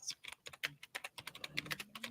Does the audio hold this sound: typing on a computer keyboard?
yes